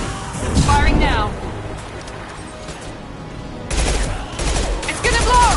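Gunfire in Mass Effect 2, dense crackling bursts of shots with impacts, loud at first, easing into a quieter stretch, then swelling again, with voices speaking amid the combat.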